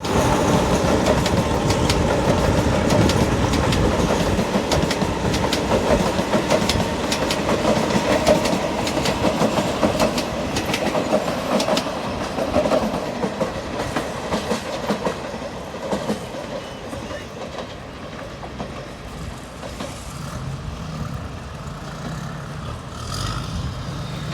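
A GEK 4031 diesel-electric locomotive hauls a southern line train past, a loud steady engine rumble with continuous wheel clatter that slowly eases and fades over about twenty seconds, with no voices.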